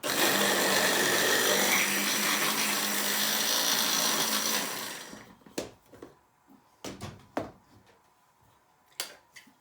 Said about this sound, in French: il faut les hacher en plusieurs fois